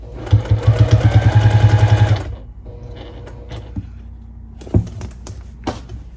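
A sewing machine stitches bias binding onto a quilted half-hexie table runner in one fast, loud, steady burst of about two seconds, then stops, leaving a few soft handling clicks and knocks.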